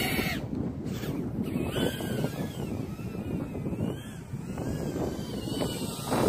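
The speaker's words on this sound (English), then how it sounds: "The wind is really blowing." Strong outdoor wind roars steadily against the microphone while a small FPV drone flies on 2S graphene batteries, a constant heavy rush with faint motor whine drifting through it.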